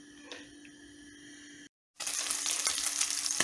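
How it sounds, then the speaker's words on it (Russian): Meat browns in a frying pan with a busy, crackling sizzle that starts after a brief silence and continues fairly loud to the end, preceded by a quieter humming stretch with a few light clinks. "подрумянилось немножечко мое мяско"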